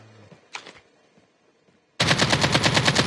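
Automatic gunfire in COD Mobile starts abruptly after a near-silent lead-in and a faint click, then becomes a loud, rapid, evenly spaced burst of shots that runs continuously to the end.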